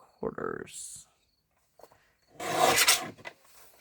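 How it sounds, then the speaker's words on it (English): Cardstock sliced on a paper trimmer, a couple of short rasping cutting strokes with a brief gap between, close and distinct, with a voice heard at the start. "And then I'm going to turn it this way and cut it at 2 3/4."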